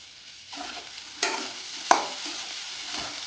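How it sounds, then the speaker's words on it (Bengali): Potatoes and beetroot frying in a pan give off a steady hiss, broken by two sharp stirring scrapes close by, with no speech. "আমি আলু আর বিটটা ভেজে নিচ্ছি"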